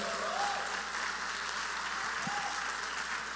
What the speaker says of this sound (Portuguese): Dá um aplauso para Jesus aí.